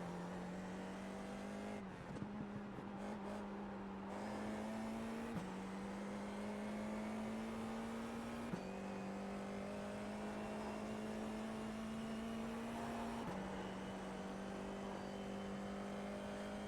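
F4 race car engine in the iRacing sim at Summit Point, a steady loud drone with pitch stepping through shifts, several abrupt gear changes and a downshift breaking the tone, continuous throughout with no talk.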